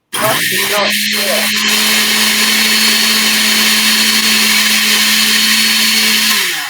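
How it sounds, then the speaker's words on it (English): A cheap countertop blender whirs steadily as it blends olive oil with dried herbs. The loud, even motor drone runs for about six seconds after a few brief clicks at the start. "this is my really cheap blender"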